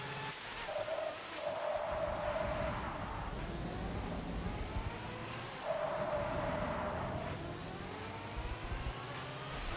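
A racing car engine in Forza Motorsport 6 revs and drones continuously, shifting pitch as it accelerates and upshifts, with no talking.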